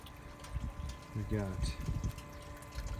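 Hot water from a propane instant water heater for a stock tank hot tub runs and gurgles with a pump-like hum, while someone talks over it.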